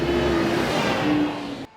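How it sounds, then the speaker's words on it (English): A diesel-engine road sweeper runs with a loud, steady broadband roar and hum, close by, with no speech, and cuts off abruptly at the end. "First the road sweeper with a diesel engine"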